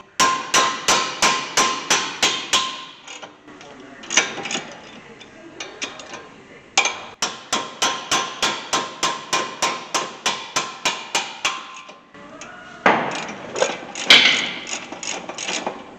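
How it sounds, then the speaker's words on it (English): Repeated sharp metallic hammer strikes on a 2007 Honda Accord brake caliper bracket ring out in fast, even bursts, pausing briefly between series, with some clanking and rattling in between. "use a hammer, not your hands"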